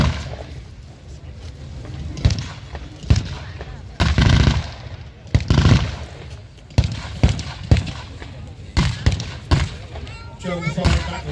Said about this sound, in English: German firing back with the MG08.